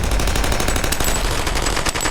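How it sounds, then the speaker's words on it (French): Gangster submachine guns fire from car doors, raking a restaurant dining room. The rapid, loud rattle runs without pause across the whole stretch, shot after shot in dense bursts. "Les canons des mitraillettes jaillissent de toutes les portières et crachent leur feu meurtrier."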